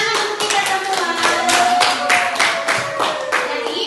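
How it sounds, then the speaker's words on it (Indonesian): Children clapping their hands together in a classroom, a lively, fairly loud patter of many quick overlapping claps in a steady rhythm, with faint voices underneath. "tepuk tangan untuk kita semua"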